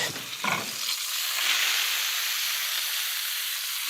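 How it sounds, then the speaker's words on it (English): Garlic fries in oil and butter in a pan, giving a steady, close hiss and crackle that starts with a few clunks and then holds even. "Get the garlic. Let that make golden brown. At this point, let me put just a little bit of butter."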